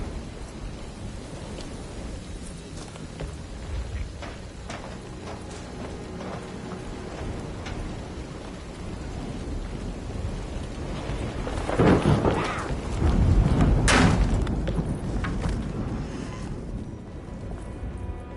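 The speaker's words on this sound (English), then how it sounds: "Now it's raining out." Steady rain with a low rumble of thunder swelling midway, along with scattered knocks and clatters, in the video game Alone in the Dark remake; no voices.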